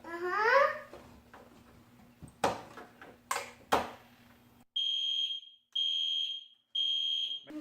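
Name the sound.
fire alarm power supply NAC circuits sounding alarm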